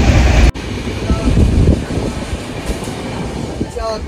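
Inside the Kamrup Express running from Howrah toward Dibrugarh, a steady rumbling roar of the moving coach fills the space, with a sharp brief knock near the start and faint chatter in the background.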